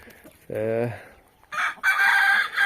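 Rooster on a farm keeping Kuwaiti, Dandarawi and other chicken breeds lets out a close, loud crow, followed by further sharp calls and clucking from the flock, with a voice speaking briefly.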